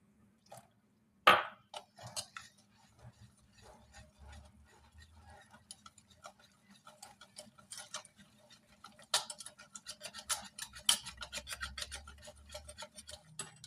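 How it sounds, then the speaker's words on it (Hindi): A hand mixer whisks gram flour (besan) batter for chicken pakora in a home kitchen, a soft rasping, ticking churn that starts faintly and grows busier and louder toward the end, with no talking. "इसको लिक्विड ही करना है, तो इसके लिए मैं ले लेती हूँ हैंड मिक्सर"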